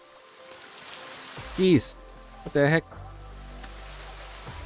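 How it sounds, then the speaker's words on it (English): Steady rain falls throughout a survival video game set among cannibals, a soft continuous wash, while someone speaks two short exclamations over it. "It's still freaking raining."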